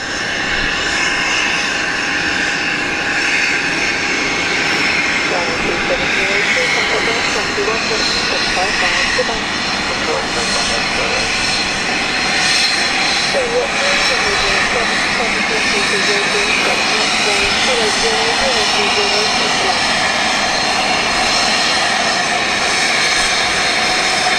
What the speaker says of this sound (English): there sounds like they're shutting down the 320neo